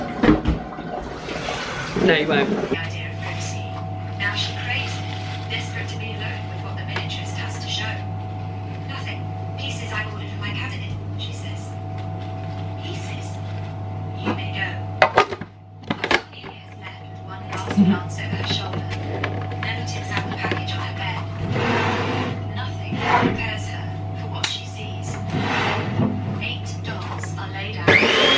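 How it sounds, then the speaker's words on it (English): An electric kettle in a home kitchen is filled and then boils, with a steady rising hum and rushing water noise running for most of the stretch while a voice briefly speaks. "I'm gonna boil the kettle, although you won't really want to hear the sound of the kettle being boiled"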